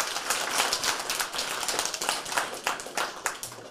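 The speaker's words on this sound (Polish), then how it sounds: "Wielkie brawa i wielkie ukłony." A room of listeners claps for a preschool group's performance, a fairly close, moderately loud patter of individual hand claps that continues evenly and thins slightly near the end.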